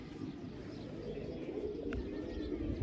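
Pigeons on a rooftop give faint cooing and a few chirps within a constant low ambient rumble at a distance.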